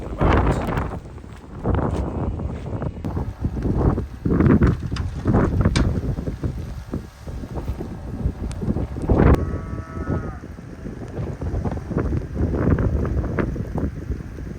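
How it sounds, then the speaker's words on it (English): Strong wind buffets an off-grid barn under construction in the woods, a loud, gusting roar with rumbling microphone buffeting that swells and eases throughout, mixed with occasional creaks and knocks. "There's that wind I was talking about."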